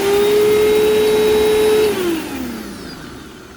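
Upright vacuum cleaner with a brush roll runs loud and close as a steady motor whine, then the pitch slides downward as it spins down.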